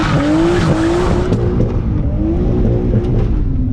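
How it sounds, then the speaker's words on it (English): A Nissan R32 Skyline drifts on a street at night, its tires squealing in long sustained tones over a steady, loud engine roar, with the squeal rising and falling in two main bursts. "You drifted right around that pothole, bro."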